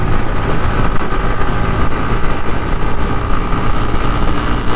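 Yamaha MT15 motorcycle pulling hard from 6th gear, a loud, dense, continuous engine drone mixed with rushing wind noise and no clear pitch changes.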